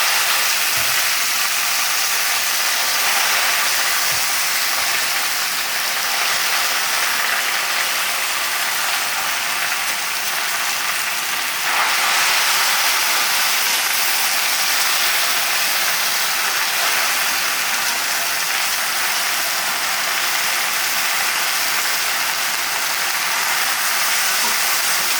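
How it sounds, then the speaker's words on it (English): Spinach with garlic, still wet with a little water, sizzles in a hot pan, giving a loud, steady hiss that holds without a break for the whole stretch, with no talking over it. "There's still some moisture or water left on the spinach, so that's the sizzle you hear."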